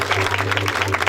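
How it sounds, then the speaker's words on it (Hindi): Loud, sustained applause from a crowd at a Christmas celebration honoring Jesus, a dense steady wash of many hands clapping together with no break over its length. "तो हम यीशु जी के लिए जोरदार तालियां बजाएंगे"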